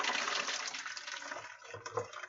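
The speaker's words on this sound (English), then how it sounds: "I'm actually going to transfer all this into a stock pot." A tomato and onion mixture is poured from a cast iron pan into a stock pot, giving a wet rushing slosh that tapers off, then a few softer splatters near the end.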